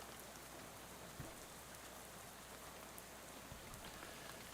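Steady rain falls in the video game Shadows over Loathing, a dense, even hiss of drops on surfaces with no pauses and a few soft, slightly louder patters, and no voices.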